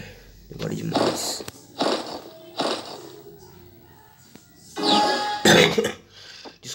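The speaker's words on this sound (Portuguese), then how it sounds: "Desculpa aí, pessoal, tô com tosse." Several separate coughs close by, a few single bursts early on, then a heavier cluster of harsher coughs near the end, with quiet pauses between.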